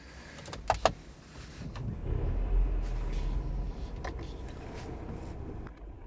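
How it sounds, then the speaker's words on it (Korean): A 2021 Mercedes-Benz E350 4Matic AMG Line with a four-cylinder gasoline engine is started: a couple of sharp clicks, then a low rumble swells into a steady idle, heard from close by without talk. "브레이크를 밟고 시동을 걸도록 하겠습니다."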